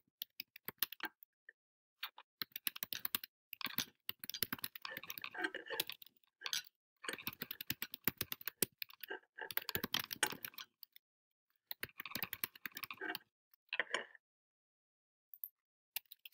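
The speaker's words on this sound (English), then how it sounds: "I'm going to type a quick slogan" Quick typing on a computer keyboard comes in bursts of rapid clicks, separated by short silent pauses, close and fairly quiet, with no voices.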